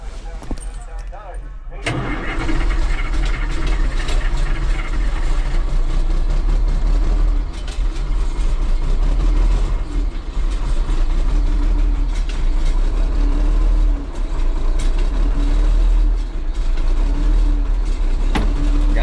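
A cold Hercules engine idles with an uneven, loping rhythm, loud and steady throughout after a short quieter start, with someone talking over it.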